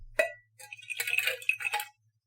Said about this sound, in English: Got our various shaped ice cubes here.